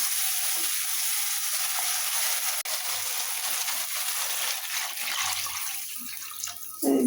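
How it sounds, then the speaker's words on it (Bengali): Water poured into a pan of curry gravy after the spices are fried, giving a steady broadband rush and splash with light sizzling underneath, close and continuous, with no talk. "কষানো হয়েছে, ঝোলে জল দিয়ে দিলাম।"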